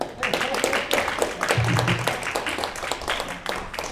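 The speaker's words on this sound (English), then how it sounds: "Let's clap one more time." Audience applause fills the room after a presentation: a steady, moderately loud patter of many hands clapping for about four seconds, with a few voices murmuring underneath.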